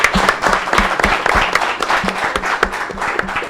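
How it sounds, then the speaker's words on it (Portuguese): A live audience gives a round of applause at the close of a debate show. The clapping is dense and close, with rapid overlapping claps running steadily throughout. "Uma boa salva de palmas, grande salva de palmas"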